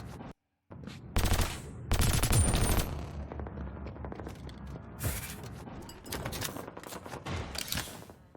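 Video game gunfire with rapid machine-gun bursts and sharp single shots, mixed with clicky UI kill sound effects, loud, dense and close, stopping briefly near the start.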